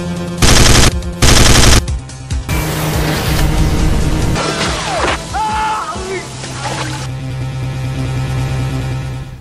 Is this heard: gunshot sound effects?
yes